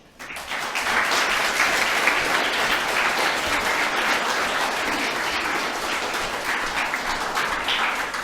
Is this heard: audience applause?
yes